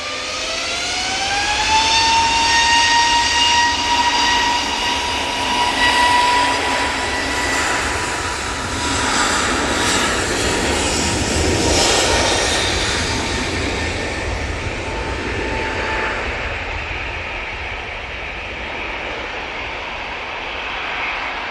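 An EasyJet airliner departs Manchester Airport, its jet engines roaring loud and close with a rising whine that holds steady before slowly fading into the distance.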